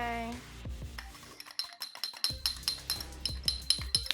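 A utensil stirs Old Bay seasoning into butter for dipping lobster tail, giving quick repeated clinks and scrapes against a dish, close and fairly quiet.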